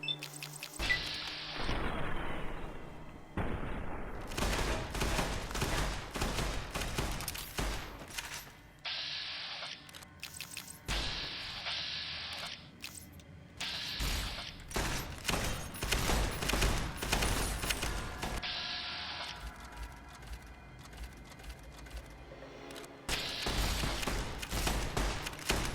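Hip-fired gunfire in Fallout: New Vegas crackles in repeated bursts and single shots, with sharp blasts and crashes separated by short quiet gaps, loud and close over a low game backdrop.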